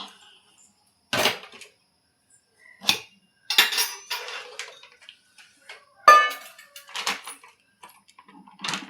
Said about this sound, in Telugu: అవి దించుకొని ప్యాన్ పెట్టుకుందాం